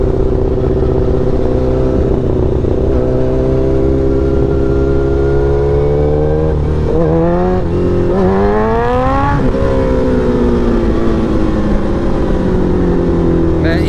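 A sports motorcycle rides through traffic, its engine droning loudly and steadily close by, with two rising revs as the rider accelerates midway before settling back to a steady cruise.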